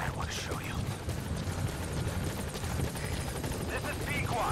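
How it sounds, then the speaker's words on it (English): Support helicopter arriving in Metal Gear Solid 5: The Phantom Pain on Xbox One, a loud steady rotor thrum and engine roar filling the scene while voices talk over it. "Support helicopter has arrived. Come on, land, land, land."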